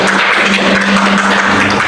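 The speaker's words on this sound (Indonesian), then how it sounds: "tepuk tangan untuk kita semua" A classroom of students clapping together in a loud, continuous burst of applause that lasts about two seconds.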